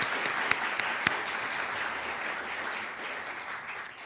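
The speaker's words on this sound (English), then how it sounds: "So let's give them a round of applause." An audience at a university event on torts scholarship applauds in a steady, even wash of many clapping hands, a few louder claps standing out, continuing evenly throughout.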